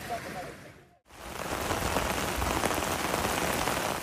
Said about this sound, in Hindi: वरसाद पण एटली मात्रामां में पड़ो कि स्थल त्यां जळनी स्थिति सर्जाई